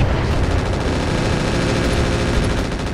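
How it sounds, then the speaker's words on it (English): Dense, continuous machine-gun fire from battling mechs in Battletech Roguetech, a loud unbroken rattle with heavy low-end rumble throughout, no talking. "Bunch of machine guns in the back."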